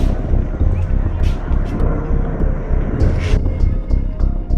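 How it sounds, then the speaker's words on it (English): A firefighting helicopter's broadband rotor and engine roar drones steadily throughout as it scoops water from a small lake, with wind buffeting the microphone and a few brief clicks on top. "The helicopter's getting the water out of our little lake to dump on the fire"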